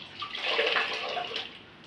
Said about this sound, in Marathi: किती मोठं पाणी निघत आहे याच्यातून